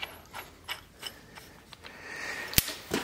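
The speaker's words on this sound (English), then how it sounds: "we're going to go ahead and snug it up with our fingers" Grinding wheel being threaded and snugged by hand onto a four inch angle grinder, a series of soft ratcheting clicks and small mechanical ticks, close and quiet, ending with a sharper click.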